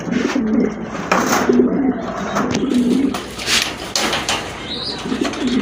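Fancy pigeons at a sale coo in repeated low throaty phrases close by, with a voice and other background noise around them.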